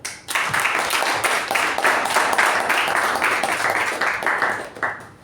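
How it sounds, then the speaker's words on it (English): Applause from a meeting audience welcoming the Toastmaster, a steady burst of many hands clapping close and loud, running alone for about five seconds before tapering off at the end. "a round of applause to Toastmaster Giri"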